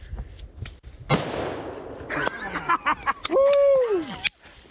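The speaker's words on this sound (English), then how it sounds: "Shoot him again. Shoot him again." A bull hunt brings a sharp, loud gunshot crack that is followed by a brief rustle, while excited voices and a sliding whistle-like call are heard close by.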